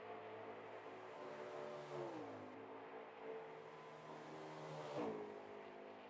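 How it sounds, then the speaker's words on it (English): A race car engine at a Chicagoland oval race runs steadily throughout, with a continuous droning whir and rising pitch sweeps near the middle and end as it revs, heard alone without talk. "Sounds like that engine's running"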